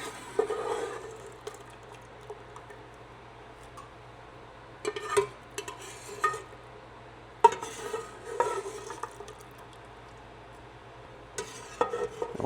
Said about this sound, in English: Going to just scoop out the pumpkin and just bounce it in the blender.